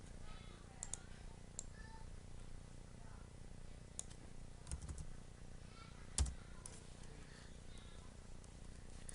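Computer keyboard typing out a search, quiet scattered key clicks in short bursts with a few sharper taps, set against a faint room hum.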